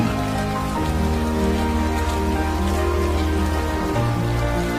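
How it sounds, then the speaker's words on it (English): Rain falls on an open-air Sunday service outdoors where a tent is being built. It makes a constant close patter over a steady bed of sustained tones, with no talk. "We have gotten used to the rain by now."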